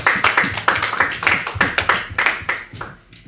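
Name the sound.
congregation clapping to acclaim the Lord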